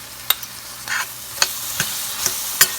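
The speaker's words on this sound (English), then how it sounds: "I'm adding 3 tablespoons of garlic paste to this, and I'm going to just stir it for literally just a minute" Garlic paste fries in a pan for butter chicken as a spoon stirs it, giving several distinct scraping clicks and taps over a faint sizzle, with no voices.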